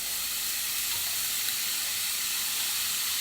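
Pork frying in a pan for a pulled pork rice bowl gives off a steady, even hiss and sizzle that stays broadband and constant the whole way through, with no talking over it.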